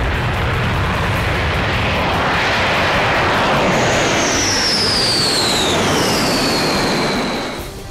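A B-1B bomber's jet engines roar loud and steady, with a rising whine sweeping over the broad rumble before it fades slightly at the end.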